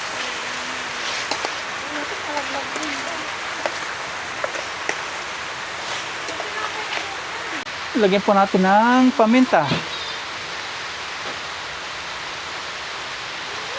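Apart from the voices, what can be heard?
rain falling during outdoor cooking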